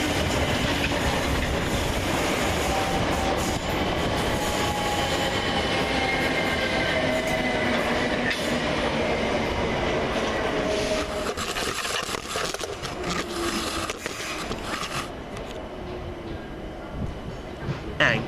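A South Western Railway class 455 electric train rushes into Richmond station on a London Waterloo to Kingston service, a loud sustained roar of wheels and clattering rails close by that eases slightly toward the end.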